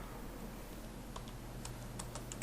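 Faint, quiet typing on a computer keyboard, scattered key clicks growing more frequent toward the end over a low steady hum.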